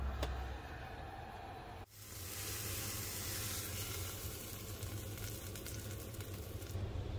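Meat browning in olive oil in a pan, a steady, close sizzle and hiss that jumps louder after a short dip and then continues evenly.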